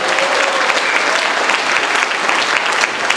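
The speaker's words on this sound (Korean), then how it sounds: "큰 박수로 환영해 주시기 바랍니다." Big welcoming applause from an audience at a Ms. Korea event in Korea, a loud, dense and steady burst of clapping that fills the whole moment without a break.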